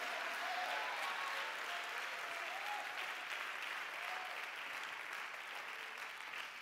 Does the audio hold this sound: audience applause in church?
yes